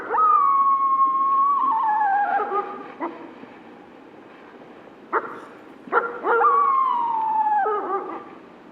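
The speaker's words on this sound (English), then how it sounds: "a female wolf uses a bark howl after being chased and nearly killed by a rival pack" A female wolf gives a bark howl after being chased by a rival pack: a long wavering howl, then sharp barks, then another modulated howl, loud and close.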